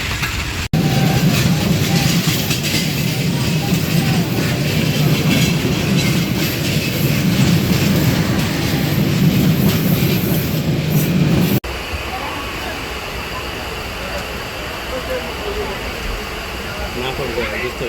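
A passenger train rolls along with a steady, loud broadband rumble, which drops to a quieter, thinner running noise partway through as the surroundings shift; there is no talking.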